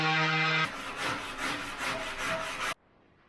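An oscillating multi-tool trims a protruding piece of wood on an off-grid build, cutting with a rapid, rasping buzz in short pulsing strokes before stopping abruptly.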